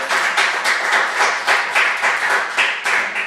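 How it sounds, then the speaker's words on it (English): Audience at a stand-up comedy show in Barcelona applauding a comedian: loud, close clapping in quick, fairly even bursts that keep going without a pause. "I'd like you to give Matthew Watson Jones a warm applause."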